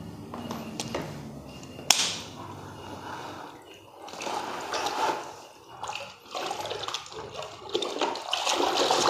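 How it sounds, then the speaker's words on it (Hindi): A hand swishes and stirs detergent washing powder in a container of water to work up foam, producing close, uneven sloshing and splashing that surges and eases repeatedly. "आप हाथ हिलाएंगे और देखिए इतनी फोमिंग इसमें आने लगी है"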